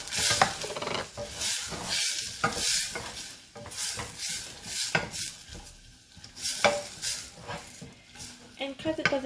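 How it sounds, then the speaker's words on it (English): Onions sauté in a hot pan, a steady sizzle broken by repeated scraping strokes of a spatula stirring them, close and fairly quiet, with a voice talking intermittently over the cooking. "Start off with the onions, sauteing them"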